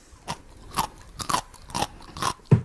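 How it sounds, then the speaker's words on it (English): Crunchy munching bites repeat at a steady pace, about five close, distinct chews spaced roughly half a second apart, with no talking over them, a sound effect accompanying Daddy Pig eating at a pirate picnic in a Peppa Pig story. "Me too, said Daddy Pig, munching away."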